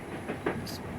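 Train carriage rolling along rails as a radio-play sound effect, a steady low rumble with faint rhythmic clatter and a couple of brief hissing bursts, continuous and moderately quiet throughout.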